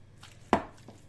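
A fork presses down and mashes soft food in a bowl, giving one sharp squelching crush followed by a couple of faint softer presses, close and alone.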